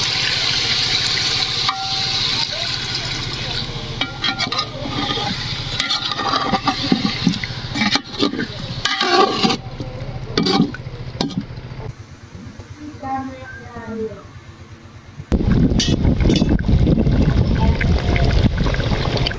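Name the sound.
water poured into cooking chicken and potatoes for biryani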